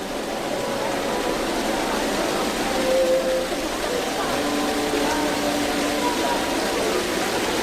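Steady broadband wash like heavy rain pouring down, continuous and fairly loud throughout, with faint tonal voices or music drifting beneath it.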